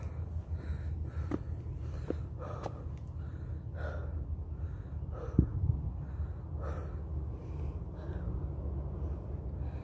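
Repeated heavy breaths, close and rhythmic, with occasional sharp gasps over a steady low rumble of background noise.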